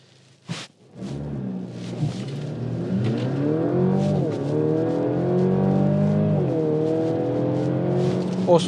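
A new Mercedes-Benz GLC in base trim pulls away from a standstill in drive, its engine note rising steadily through several gear changes as it builds speed, loud and continuous inside the cabin with no talk.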